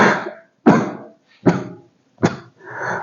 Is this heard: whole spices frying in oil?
no